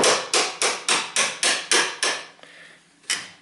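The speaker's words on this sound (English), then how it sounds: "and hammer" A hammer drives a flathead screwdriver against a bolt on a car driveshaft, eight quick, regular, ringing metallic strikes close up, then a short gap and one final blow.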